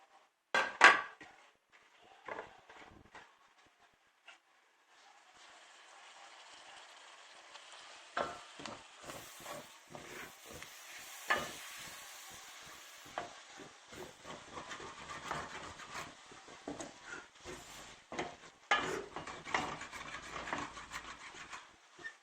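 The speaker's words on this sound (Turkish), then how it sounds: "Şöyle havuç, soğan, sarımsak ilave ediyorum." Carrot, onion and garlic hit a hot pan in a home kitchen, with a few knocks at first, then a steady frying sizzle and hiss, broken by scattered clatters of stirring.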